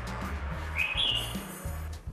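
A caged songbird gives a short, bright whistled phrase partway through, close by and clear above a steady low rumbling background.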